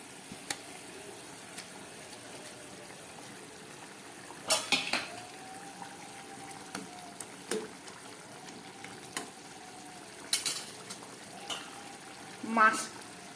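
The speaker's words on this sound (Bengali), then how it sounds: "ঝোলটা একদম ফুটে উঠেছে। এবার এই ভেজে রাখা মাছগুলো আমি দিয়ে দিচ্ছি।" Fried rohu fish pieces going into a pot of boiling fish curry. A soft, steady bubbling and sizzle runs under sparse, sharp clinks of utensils against the pot, with a brief louder scrape near the end.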